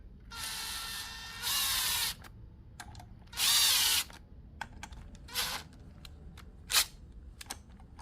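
A power tool drives a 10mm socket to tighten the clutch bolts on a Honda CBR300/CB300 motorcycle. It makes several short, close whirring bursts separated by quiet gaps and small clicks, with no talk.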